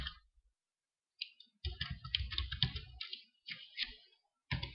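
A password typed on a computer keyboard during a Gmail login, quick bursts of close, light key clicks separated by short pauses.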